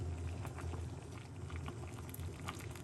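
Water being poured into a homemade anti-inflammation remedy drink makes a soft, continuous bubbling and trickling splash, low in level and close, lasting a few seconds with no voices.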